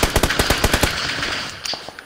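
Automatic gunfire in the video game PUBG, a rapid burst of about ten close loud shots followed by scattered fainter distant shots.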